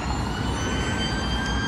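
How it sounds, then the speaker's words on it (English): An ambulance siren on the M6 motorway near junction 10, a steady tone heard from a moving car amid continuous road and engine noise, with no talking. "Ambulance coming."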